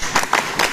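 A group at a school morning assembly claps in time to a chant, three quick bursts of hand claps evenly spaced.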